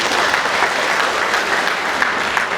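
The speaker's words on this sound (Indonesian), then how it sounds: "Tepuk tangan." Audience applause at a hospital disaster simulation event in Padang, a dense, continuous crowd of hands clapping, fairly loud and steady throughout with no speech over it.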